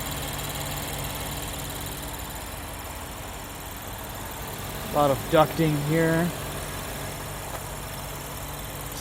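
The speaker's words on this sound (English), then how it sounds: "Such a smooth engine." A 2018 Lexus LC 500 engine idles smoothly as a low, steady hum beneath the cabin ambience, with someone speaking briefly partway through, captured binaurally.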